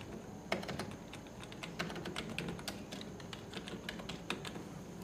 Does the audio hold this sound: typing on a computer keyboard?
yes